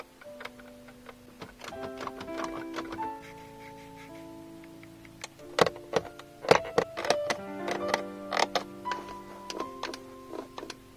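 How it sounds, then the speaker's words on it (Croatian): Interior of a VW Touran diesel with seven seats, showing small ticks, rattles and creaks from cheap cabin plastics, sharp irregular clicks and squeaks heard close up with no talking. "onda i puno bolje čujete sve cvrčke koje auto ima."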